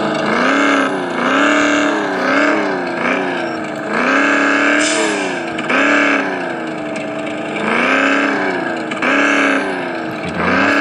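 A car engine in the Car Parking 3D game drones loud and close, its pitch rising and falling in repeated revving swells as the vehicle speeds up and slows down, with no voices.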